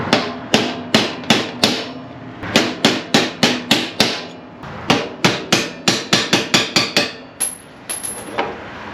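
Repeated sharp hammer blows on a steel punch, driving a pin out of a 4L60E automatic transmission valve body, close and loud in steady bursts of evenly spaced strikes with brief pauses between groups, no talking.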